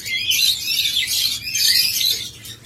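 A breeding pair of olive yellow lovebirds chirps close by in bright, rapid bursts, with a pause between volleys.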